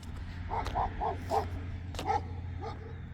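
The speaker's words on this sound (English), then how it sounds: "Dog barking out of that car." A small dog yaps from inside a car in a quick string of four barks, then a couple more, heard faintly at a distance over a low steady hum.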